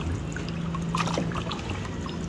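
Tap water pouring steadily over raw meat being rinsed for cooking, a continuous close trickle and splash running throughout without talk.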